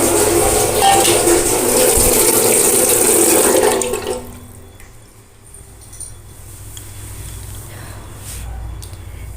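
Tap water pours loudly into a pot for washing, a full rushing gush for about four seconds. It then cuts off, leaving quiet background sounds and faint clinks.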